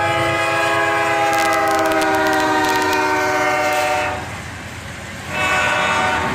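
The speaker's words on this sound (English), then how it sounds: "we caught this train with a BNSF locomotive trailing in the war bonnet paint scheme" A freight train with a trailing BNSF locomotive in warbonnet paint passes close by, its horn sounding a long sustained chord over rumbling wagons before a brief dip and renewed noise.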